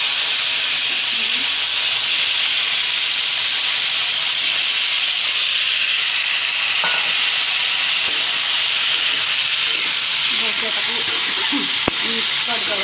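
Tomatoes fry in a pan with a loud continuous sizzle and hiss, steady throughout, with scraping stirs and a light clink of the utensil against the pan near the end.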